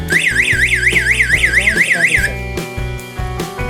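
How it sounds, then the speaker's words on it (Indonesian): A loud electronic pull-cord alarm siren wails in a rapid rising-and-falling sweep, then cuts out, leaving a few clicks and low background hum. "Untuk membunyikan alarm bisa dilakukan dengan 2 cara, menekan push button atau menarik tali."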